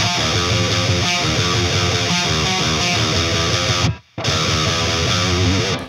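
A distorted electric guitar plays a fast riff from a song, dense and loud with chugging palm-muted notes, broken by a brief near-silent gap before resuming.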